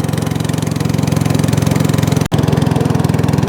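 A small boat engine chugs loudly and rhythmically at close range, a steady pulsing putter with one brief dropout partway through.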